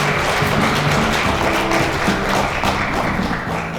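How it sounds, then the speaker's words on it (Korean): An audience at a Korean ESG and corporate value-up forum applauds in a dense, steady wash of clapping that holds loud for the whole stretch, with a faint low tone running underneath. "큰 박수 부탁드립니다"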